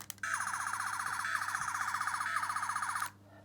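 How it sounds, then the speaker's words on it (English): A Doctor Who third Doctor sonic screwdriver toy from a 50th anniversary collection gives off a steady, high, warbling electronic whine with a fast pulsing flutter, lasting about three seconds before it cuts off sharply. "it's got the exact same noises as the third Doctor Sonic screwdriver"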